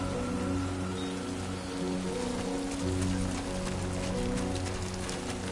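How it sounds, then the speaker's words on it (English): Steady rain patters on surfaces in a video game, a dense, even hiss that continues for several seconds with no voices. "Great. Rain. Gotta move."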